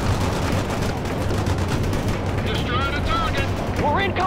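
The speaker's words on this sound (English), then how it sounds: "We're in combat. Bradley returning fire." Bradley fighting vehicle returning fire in the World in Conflict combat game: a steady, dense roar of gunfire and battle noise runs throughout, with radio-style voices and whistling tones breaking in near the end.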